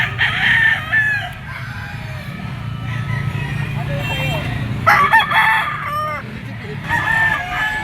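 Yellow-legged bull stag rooster crowing at a pet market, several drawn-out crows standing out over a steady background of other fowl clucking and crowing, with faint voices in the mix.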